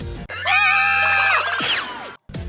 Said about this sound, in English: Then Pinkie screams?